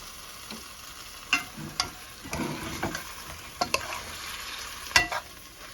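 A spoon scrapes and clacks through chicken curry masala in a sizzling pan, a few irregular stirring knocks over a steady low fry, close and alone.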